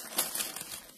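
Crinkling of a plastic bag holding pegs for a knitting loom, a short burst of crisp rustling with a few sharper crackles, close and fairly quiet.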